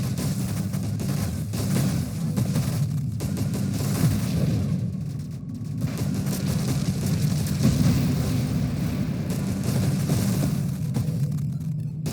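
Nova Drift space shooter gameplay with a ship strafing and firing on enemies, a dense, loud, continuous wash of rumbling blasts and booms with scattered sharper hits, no talking.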